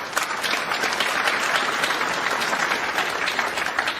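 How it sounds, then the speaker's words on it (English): Snooker crowd applauding at a Champion of Champions quarter-final between Ronnie O'Sullivan and John Higgins, steady dense clapping filling the hall throughout, loud and close with no talk over it. "The crowd applauds."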